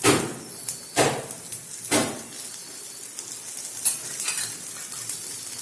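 Cucumber thalipeeth in a pan is flipped and fresh oil goes in, giving a few loud, close spatula scrapes and clatters over a continuous soft sizzle of frying, with no talking.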